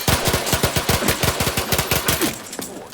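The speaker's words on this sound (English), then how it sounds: "Who are they shooting at?" Rapid automatic gunfire in The Outer Worlds 2, a fast regular burst of evenly spaced shots that runs for over two seconds, then breaks off into a few scattered rounds.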